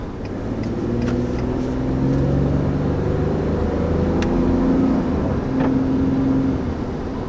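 Cabin noise inside a 2019 Ford F-150 STX pickup on the road: a steady low engine drone and tire rumble with slight rises in pitch as it pulls along, no talking.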